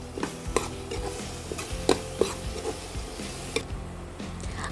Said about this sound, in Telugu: 2 టీ స్పూన్ల అల్లం వెల్లుల్లి పేస్ట్ వేసి పచ్చివాసన పోయేంత వరకు వేయించుకోవాలి